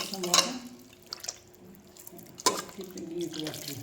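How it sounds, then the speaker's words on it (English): Water poured and splashed by hand into pressed bil fruit pulp for juice, with short close splashes and drips between quieter moments, while people talk nearby. "you just put some water."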